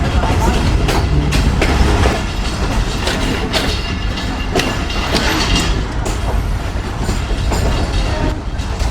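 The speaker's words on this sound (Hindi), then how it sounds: "अप्रोच बना रही है ट्रेन प्लेटफॉर्म पर" The Pak Business Express passenger train rolls at restricted speed toward the Kotri Junction platform on Pakistan Railways, a loud, steady, close rumble with wheel clatter and rattling carriages throughout.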